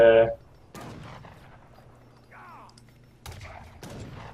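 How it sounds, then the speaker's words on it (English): Falconet cannons fire volleys in a real-time strategy game match, with sharp booming blasts at the start and several more later, over a quiet game background and faint commentary. "Yeah, good volley from the Falconets."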